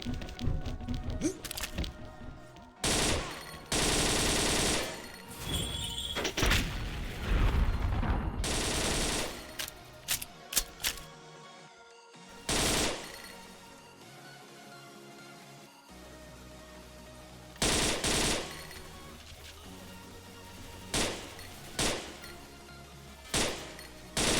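Bursts of suppressed gunfire in the shooting game XSHOT, rapid volleys of sharp cracks coming in loud clusters separated by quieter gaps, close and punchy.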